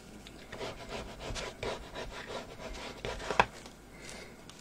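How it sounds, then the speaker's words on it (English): A Teflon burnishing tool is rubbed over paper in a craft project, giving soft rhythmic scraping strokes close to the microphone, faint and repeated, with one sharper tap near the end. "Just burnish that down."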